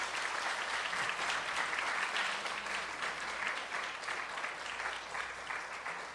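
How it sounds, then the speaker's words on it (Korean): Steady, dense applause from a large crowd, sustained throughout at an even level, sounding slightly distant in a big room, welcoming a speaker at a church lecture. "박수로 환영하겠습니다."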